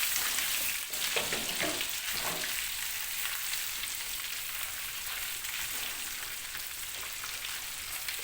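A spoonful of tomato paste frying and melting in a pan for a Turkish oven meatball and potato dish: a soft, steady sizzle with faint stirring scrapes early on, close but fairly quiet.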